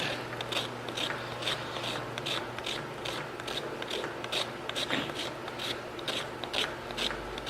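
Goat hooves are trimmed and ground down at the heels, giving a steady, rhythmic rasping and grinding, with close-up strokes repeating every fraction of a second over a low background hum.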